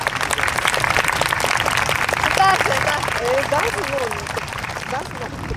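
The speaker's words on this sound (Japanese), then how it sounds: "皆様拍手でお送りください。" Audience applause at a Ground Self-Defense Force summer festival at Narashino garrison as the airborne bugle corps marches off, a continuous patter of clapping from a crowd with an announcer's voice over it.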